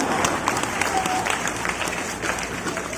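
Sustained audience clapping at a Hindi comic poetry recital, a kavi sammelan, rolls on at an even, fairly loud level with some crowd murmur mixed in.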